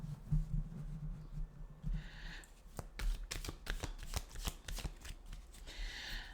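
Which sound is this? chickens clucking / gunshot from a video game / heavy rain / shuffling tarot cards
shuffling tarot cards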